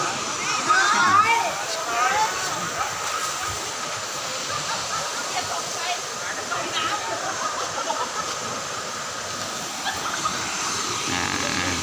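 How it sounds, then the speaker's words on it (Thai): A strongly flowing waterfall at Khao Chamao in Rayong pours in a constant broadband rush, loud and close, steady throughout with a few faint rattling sounds early on. "ขอปิดท้ายด้วยน้ำตกไหล แรง ๆ แบบนี้นะ"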